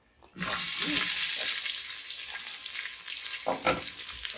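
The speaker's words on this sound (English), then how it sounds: "I added a little bit more oil so that the garlic and onions can cook" Garlic and onions frying in oil in an Instant Pot, a sudden burst of sizzling that settles into a steady hiss with a few stirring scrapes near the end, close and moderately loud without speech.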